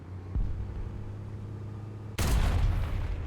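EBR 1954 tank gun in War Thunder fires one loud, sharp boom that drops into a rumbling tail, coming after a stretch of low engine hum with a faint earlier thump.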